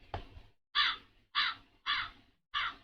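Crow caws played from a soundboard: five sharp, harsh calls in an even rhythm, clear and alone with silence between them.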